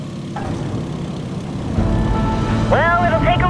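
A Stearman biplane engine in Microsoft Flight simulator drops to idle, giving a steady low drone that grows slightly fuller midway, with a voice speaking briefly over it near the end.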